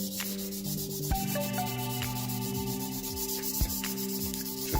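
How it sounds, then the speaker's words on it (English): A hair clipper's cutting blade is rubbed side to side against a sharpening surface, giving a steady scraping rasp with regular strokes, layered over a constant tonal hum. "it's going to clean off and sharpen that blade to where it's nice and even, able to rub up against"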